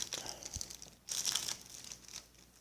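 Plastic wrapper being peeled open from a cheese slice, close crinkling and tearing in short bursts with a louder crinkle in the middle, quiet overall.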